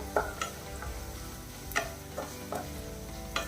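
Curry masala thickened with gram flour being sautéed and stirred in a pan for a sweet potato masala, giving a steady sizzle with several distinct scraping spoon strokes, close and moderately loud, no talking.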